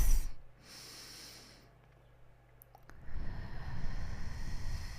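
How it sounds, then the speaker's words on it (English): A deep breath during a guided meditation: a soft hissing inhale near the start, a quiet pause, then a fuller, louder rushing breath building toward the end. "Take a deep breath."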